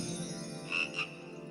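A cartoonish frog croaking sound effect in a slapstick comedy scene, two short croaks in quick succession over a faint background hum.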